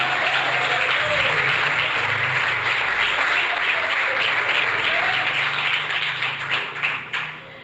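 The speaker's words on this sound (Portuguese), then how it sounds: "Quem quer dar uma salva de palmas, igreja?" A church congregation applauds in a loud, continuous wash of clapping with a low steady hum underneath, the clapping thinning and trailing off near the end.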